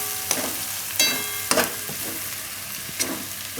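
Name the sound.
stirring paneer and corn curry spices in a pan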